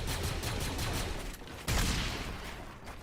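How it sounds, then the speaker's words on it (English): Gunfire in a shooter video game, with a fast stream of shots hitting trees, steady and fairly loud, then a sharper burst of impacts partway through, and no talking. "Now, I can just start to hear the trees getting hit now."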